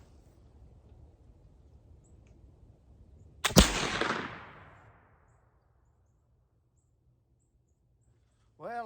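A single sharp gunshot fired across a field toward a distant target in the woods, loud and abrupt, followed by a fading echo that rolls off into near silence, with a brief voice at the very end.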